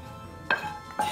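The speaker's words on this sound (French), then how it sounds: "vous touillez bien" Food stirred in a pot, with two short clinks of utensil against the pot over quiet kitchen background.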